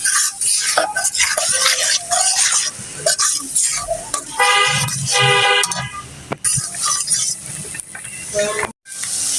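Spices with salt being stirred and sautéed in a pan for a village-style pangas fish and potato curry, with scraping and sizzling under busy background noise, a horn-like tonal burst midway and a brief dropout near the end.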